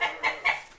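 A pet goose in a Tagalog folk tale gives three quick honking calls in close succession, short, nasal and fairly loud, heard alone with no talk over them.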